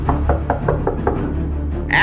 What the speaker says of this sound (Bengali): দরজার উপর ধাক্কাও থামল না